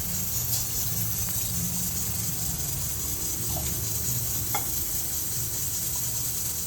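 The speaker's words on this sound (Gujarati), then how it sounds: "તેમાં આપણે એક ગ્લાસ જેટલું પાણી નાખશે" Water from a glass poured into a cooking pot for kokum chutney, a steady continuous gushing and splashing that stays even in level throughout, close by with no talking.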